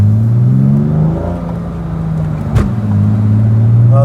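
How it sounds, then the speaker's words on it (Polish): A BMW E36 engine idles with a steady low drone, its revs sliding down smoothly as the note settles, loud and close with a brief sharp click partway through and no voices. "Fajnie, schodzi z obrotów"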